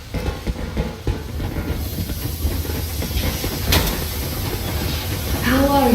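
A train in Metro Exodus rolls steadily along rails with a constant loud rumble and hiss, a brief squeal partway through and a rising tone near the end, with no voices over it.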